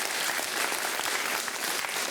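Audience applause fills a school cup-stacking contest between two elementary school teams, a dense, steady burst of clapping from a crowd of supporters lasting a couple of seconds with no talk over it.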